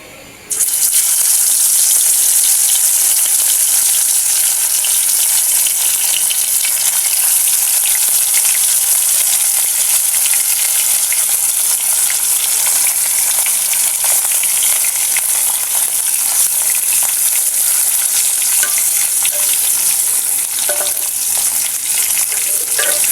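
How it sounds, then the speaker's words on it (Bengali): Small fish drop into hot oil in a kadai, bursting into a loud, dense, continuous sizzle right up close that holds steady throughout, with no talk. "এখন আমি মাছগুলো দিয়ে দেব।"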